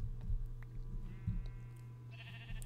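Sheep in a Minecraft-style video game bleat a few times in the background alongside soft game ambience, with no talking.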